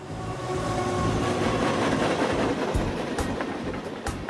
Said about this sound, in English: he can hear the train as it goes by.